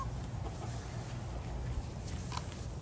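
Backyard chickens cluck softly and steadily in the background, with a low rustle throughout and no talking.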